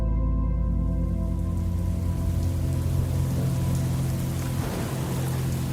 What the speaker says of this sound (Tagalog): Biglang-bigla naman ang buhos ng ulan